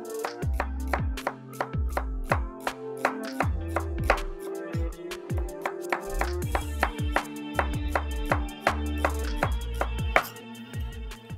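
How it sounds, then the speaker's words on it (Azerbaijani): An onion is chopped with a knife on a board: a steady run of sharp, close knocks at a brisk, even rhythm, with soft background music underneath. "Soğanlarımızı doğradık,"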